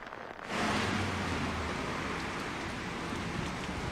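Heavy monsoon rain pours over Mumbai, a dense, steady hiss that swells in after a moment and holds at an even, loud wash with no voices.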